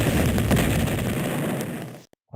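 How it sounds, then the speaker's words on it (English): Cannon fire in the Civil War Generals 2 strategy game, one cannon dueling an artillery piece: a dense, loud, continuous booming rumble lasting about two seconds, then cutting abruptly to silence. "This cannon here is going to 1-for-1 this artillery cannon here."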